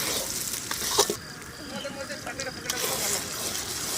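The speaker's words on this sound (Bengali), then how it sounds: "কি সুন্দরভাবে মশলাটাকে নাড়াচাড়া হচ্ছে" Masala spices for a mutton (khasir mangsho) curry sizzle and fry in a pan while being stirred, a steady crackling hiss with occasional scraping knocks of the spoon, close and continuous throughout.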